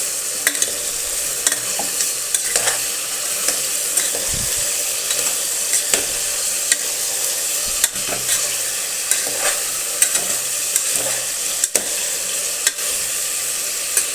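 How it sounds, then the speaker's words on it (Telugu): Bitter gourd frying in hot oil, a steady bright sizzle with repeated sharp scrapes and clicks of stirring, close and continuous with no voices. "నూనెలో బాగా ఫ్రై చేసుకోవాలి."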